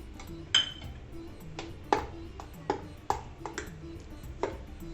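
Rice and urad dal batter mixed with salt in a metal bowl, giving a series of bright clinks and scrapes of a spoon against the vessel, about eight spaced hits over a soft, steady background.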